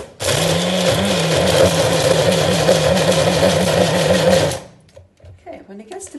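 A food processor pulses pesto Genovese in a loud, steady whirring burst with a rhythmic wobble for about four seconds, then cuts off abruptly, leaving quiet kitchen handling noises.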